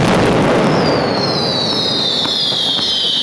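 Firecrackers exploding at the Fallas festival in Valencia, a loud, dense continuous barrage of blasts with a rising whistle streaking through it.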